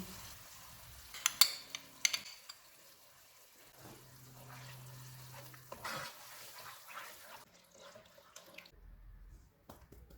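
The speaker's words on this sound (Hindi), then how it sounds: "इसमें 1 कप पानी डालेंगे, आधा कप फेंटा हुआ दही" Water and whisked yogurt poured into aloo keema pulao in a hot pan, giving a few splashy bursts early on, then a soft simmer and stirring that fades to near quiet.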